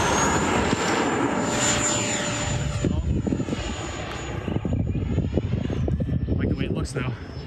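An E-flite Viper 70mm electric ducted-fan RC jet flying overhead, a high whining whoosh that sweeps past and fades, heard outdoors with a person talking over it.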